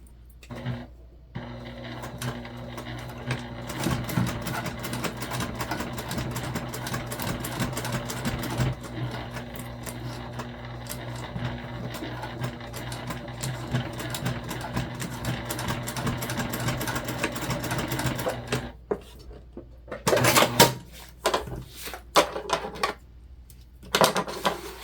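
A sewing machine stitches a backpack seam in a long, steady run of rapid mechanical clatter, close by, followed by a pause and a few short stop-start bursts.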